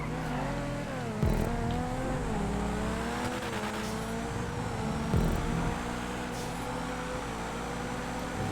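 An XA21 supercar races on a GTA 5 track, with its engine droning steadily and shifting pitch as it climbs. Game car noise layers over it, and two sharp bursts cut through near 1 and 5 seconds.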